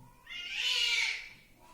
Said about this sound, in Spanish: Hay pelea de gatos afuera.